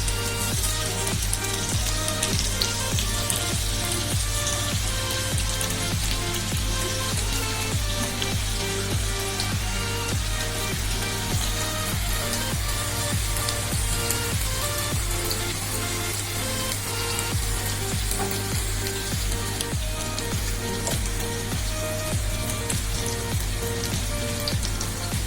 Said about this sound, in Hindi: साथ ही मैं छोटे छोटे चिकन के पीस भी फ्राई करूंगी।